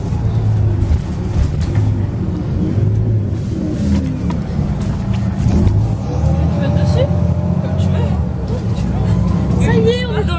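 Steady low rumble of a city bus interior while riding in Aix, with engine drone and road noise throughout and a babble of nearby passengers' voices under it.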